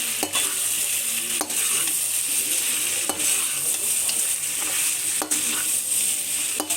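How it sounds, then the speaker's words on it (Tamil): Pallipalayam chicken pieces frying in oil, a loud steady sizzle filling the whole stretch with sharp clicks of a utensil stirring through the pan every second or two. "இன்னும் இந்த எண்ணெயிலே அது ஃப்ரை ஆகணுங்க"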